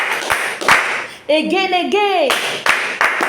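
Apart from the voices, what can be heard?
clapping hands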